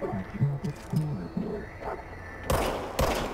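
Gunshots in the video game Control: two sharp, loud bursts close together near the end, after a stretch of low voice-like sound.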